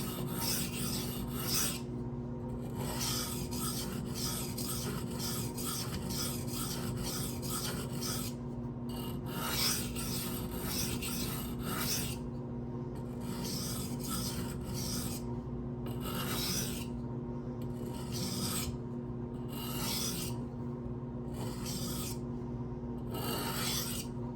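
A knife blade is drawn over a soaked whetstone with repeated rhythmic rasping strokes, close and steady in short bursts with brief pauses, and no talking.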